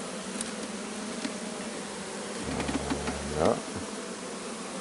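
Honeybees buzzing faintly around a hive being transferred outdoors, a soft continuous hum with a louder buzzing pass midway and a brief spoken word.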